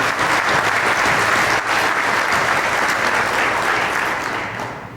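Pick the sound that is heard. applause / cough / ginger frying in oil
applause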